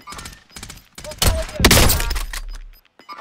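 Gunfire in Call of Duty Modern Warfare 2019 comes in loud, sharp bursts with crashing impacts, mixed with players talking.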